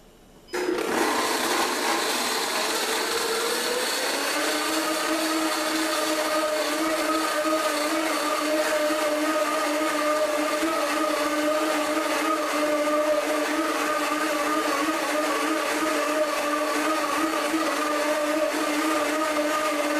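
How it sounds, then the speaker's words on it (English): A Blendtec Total Blender runs on its high setting, a loud, steady motor whine starting abruptly after a brief quiet moment and holding constant with a dense roar, no talking. "Here's the Blendtec Total Blender. I'm going to run this on high."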